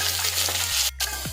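Steady close sizzling of onions, chillies, curry leaves and garlic frying in hot oil, with a low hum underneath and a brief pause in the crackle.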